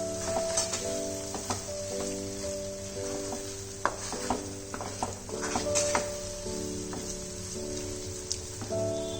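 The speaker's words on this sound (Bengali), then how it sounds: "তেলটা সাইড দিয়ে ছেড়ে যাচ্ছে, এবার ধীরে ধীরে যেটুকুনি জল আছে এটাও আমি রিডিউস করে নেব।" Loita fish jhuri sizzling steadily in oil in a pan over medium heat as the remaining water cooks off, with a constant close hiss and occasional clinks and stirring scrapes.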